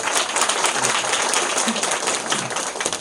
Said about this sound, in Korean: 여러분께 박수 한번 좀 부탁드립니다